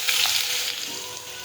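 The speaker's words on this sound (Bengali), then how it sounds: "আমি সব একসঙ্গেই ভাজাটা বসিয়ে দিলাম" Carrots fry in hot ghee and oil with a dense, steady, close sizzle that fades slightly toward the end. No one talks over it.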